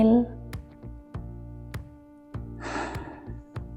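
One deep breath rushes out audibly during a slow stretching exercise, set against soft background music with a steady ticking beat.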